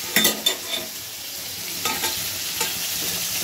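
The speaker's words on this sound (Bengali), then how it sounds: "এই জন্য সবজিটা আগে একটু কষাই নিতেছি তাড়াতাড়ি করার জন্য।" Vegetables stirred and sautéed in hot oil in a pan for a fish curry, close sizzling with a few sharp scraping stirs at the start and again midway.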